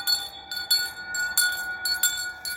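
A bell rings in the morning with a steady run of bright, ringing strikes about twice a second, each leaving a shimmering hum between hits. It is fairly faint and heard alone.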